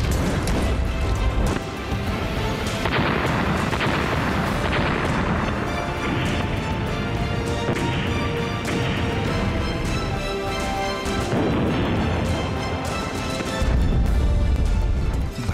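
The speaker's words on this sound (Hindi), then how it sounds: "कैसे लेबनान से लेकर इजराइल तक धमाकों से मचा है विध्वंस" Explosions from rocket and drone attacks in the fighting between Israel and Hezbollah in Lebanon, heard as repeated heavy booms and crashing blasts over a dense, loud, continuous rumble with no clear pauses.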